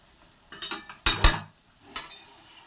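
Cooked raw mango pickle tipped from a pan into a container, heard as a few sharp metallic scrapes and clinks of a spoon against the vessel in short bursts, close up, with no talking.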